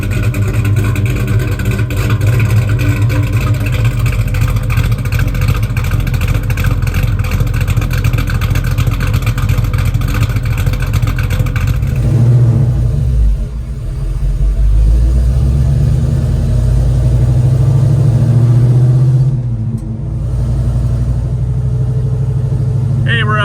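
A 427 V8 in a 1968 Chevrolet Chevelle Malibu idles with a deep, lumpy rumble, loud and close, holding steady with slight shifts in tone; no talking over it.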